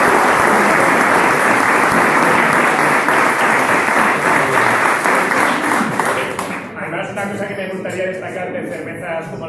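Loud, dense applause from an audience at a homebrew beer competition awards ceremony fills most of the stretch, then fades as a voice begins speaking over the dying claps.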